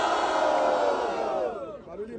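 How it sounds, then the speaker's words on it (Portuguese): A rap battle crowd at the Batalha da Leste semi-final cheers and shouts loudly in a dense, sustained roar that thins out toward the end. "Barulho quem gostou das rimas de Apolo e FLP"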